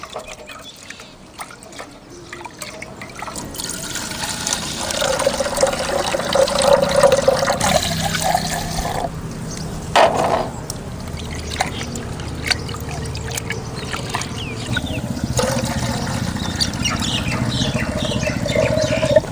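Water is poured and sloshes while bitter gourd curry with green gram is cooked, a long continuous splashing and trickling with a brief voice in the background.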